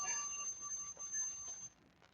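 An exercise interval timer's electronic alarm beeps in a steady high tone for about two seconds during a home strengthening circuit, fading out at the end with no talking over it.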